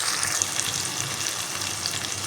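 Fish seasoned with salt and chili powder fries in a pan, a steady, moderately quiet hiss with light crackles, heard close and alone without talk.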